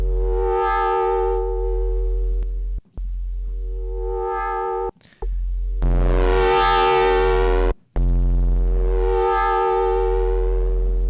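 A gritty, distorted synth bass plays sustained notes with rising and falling filter sweeps, cut by brief silent gaps, loud and with no voices.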